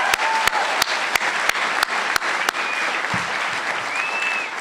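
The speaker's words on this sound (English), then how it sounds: "Round of applause for Claire." A crowd at a Democratic Party event breaks into a round of applause, steady clapping with sharp louder claps standing out at regular intervals, sustained throughout with no talk over it.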